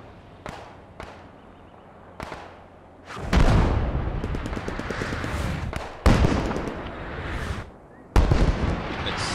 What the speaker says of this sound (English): And here's some artillery coming in, probably right on the objective.